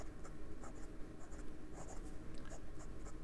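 Benu Tattoo fountain pen with a number 6 Schmidt steel fine nib writing on paper, a soft continuous scratchy scribble with small bursts of pen strokes, close and quiet, with no talking.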